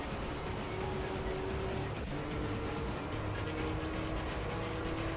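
Gran Turismo 3 racing car engine droning steadily at a distance under a dense wash of noise, sustained without breaks, no voices over it.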